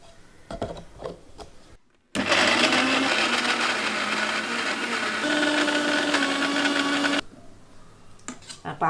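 An electric mixer grinder whirs loudly and steadily for about five seconds while grinding a jackfruit seed chutney with coconut, tamarind, curry leaves and salt, with brief clatter and handling sounds before and after.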